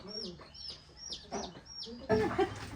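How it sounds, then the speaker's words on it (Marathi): Chickens cluck nearby and chicks give repeated high peeping calls, with a voice joining briefly near the end. "कोंबडीची पिल्लं बघ आई कोंबडीची पिल्लं चारच राहिली"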